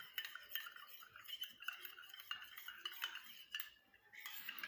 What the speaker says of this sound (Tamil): அடுத்ததாக இந்த சோள மாவை நல்லா கரைச்சி விடுங்க.